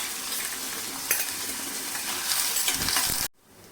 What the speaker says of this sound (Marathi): आता आपण याच्यामध्ये हा मीडियम साईजचा बारीक चिरलेला कांदा टाकून घ्यायचा आणि कांदा छान मऊ करून घ्यायचा